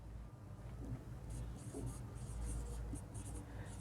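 Chalk or marker scratches on a board during a Class 10 lesson on electric current, a faint, steady writing sound with soft strokes and no clear talk.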